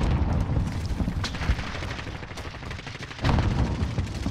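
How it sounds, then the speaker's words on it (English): Gunfire in a video game: dense, booming shots and blasts with heavy low rumble throughout, with a loud renewed burst late in the clip. "I said don't shoot him, I shot."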